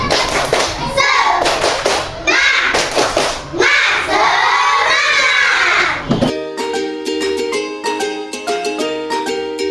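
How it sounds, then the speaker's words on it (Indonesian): A class of schoolchildren performs a rhythmic spirit clap chant, loud overlapping young voices shouting in time with claps and thumps, before the chant breaks off and music takes over for the last few seconds. "sekarang kita tepuk semangat"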